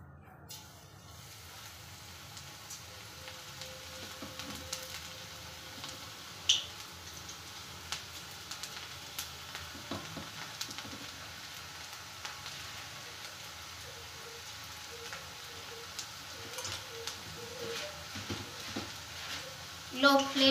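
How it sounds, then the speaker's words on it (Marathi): Onion bhaji frying in hot oil over a low flame: a quiet, steady bubbling hiss dotted with sporadic sharp pops and crackles, while a voice talks at times above it. "लो फ्लेमवर आपल्याला हे फ्राय करून घ्यायचे भजे।"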